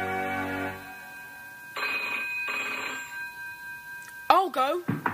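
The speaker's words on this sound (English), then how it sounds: "On the third day, the phone rang." An old-style telephone bell rings in two long bursts with a pause between, loud and close, followed by a voice beginning to speak.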